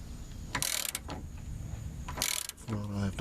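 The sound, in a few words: ratchet with 3/4 inch socket tightening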